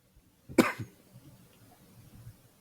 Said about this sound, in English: He coughed. It was a nervous cough.